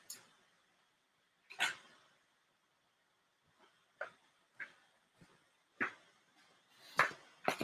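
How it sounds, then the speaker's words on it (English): Dogs bark indoors in a scattered series of sharp, fairly close barks with quiet gaps between them. A few yips and sniffs are mixed in, and no one talks over them. "and now they're barking at me"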